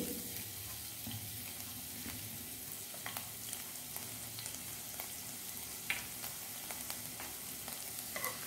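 Chopped garlic, four or five cloves, frying in a little oil in a kadai, a steady soft sizzle with occasional stirring clicks and scrapes, close and alone.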